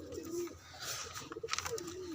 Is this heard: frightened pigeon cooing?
yes